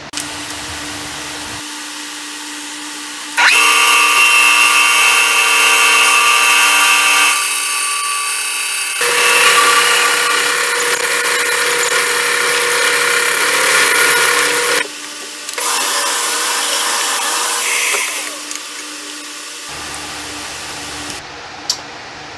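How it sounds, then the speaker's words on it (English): Power drill boring through a segmented wooden pen blank, a loud steady whine in several long runs separated by short pauses, close to the listener with no talking. "then we will drill it."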